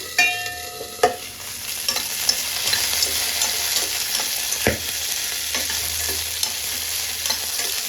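Sesame seeds and chukka kura greens frying in a pan on the stove, a constant close sizzle broken by a few sharp stirring knocks and scrapes.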